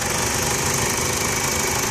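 A 2006 Chrysler Sebring convertible engine runs at idle with the hood open, producing a steady, even hum with faint light ticking, close and unbroken, with nobody talking.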